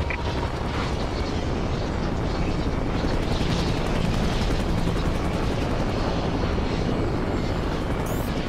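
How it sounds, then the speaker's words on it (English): An enemy warbird aircraft flies overhead in a video game, making a steady, dense engine roar that stays loud and unbroken, with faint distant rumbles underneath. "Enemy warbird above."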